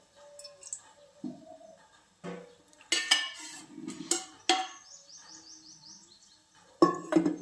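A metal pan clanks onto a stove and oil is poured in for heating, with sharp scattered knocks and scrapes of cookware, close and intermittent, while birds chirp faintly in the background.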